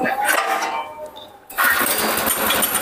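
Engine of a Blitar-made grass chopper machine being pulled to start: a rough churning crank, a brief lull, then the motor catches and runs loudly and steadily.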